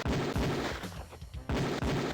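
Beretta pistol shots ring out on a police firing range in the game Police Quest 4, loud sharp reports packed in a rapid string, a short pause, then another burst of close, dense fire.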